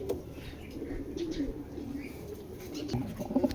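A white racer pigeon coos softly and repeatedly close by, low throaty calls rising and falling over a faint background murmur.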